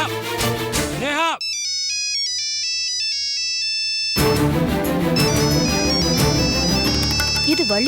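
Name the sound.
mobile phone ringtone, incoming call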